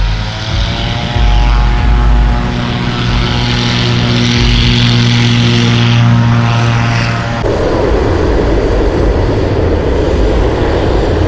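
A loud, steady mechanical roar from a powered fan inflating hot air balloons at Sky Club in Vang Vieng, its deep droning hum with tonal whine holding constant before the tone shifts to broadband rushing noise.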